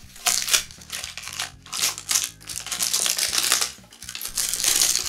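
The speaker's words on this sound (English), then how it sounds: "I can start removing the packaging and frame protection" Crinkly plastic and foam packaging being pulled and torn off a Santa Cruz Megatower carbon mountain bike frame held in a stand, with loud, bursty crackling rustles in quick succession.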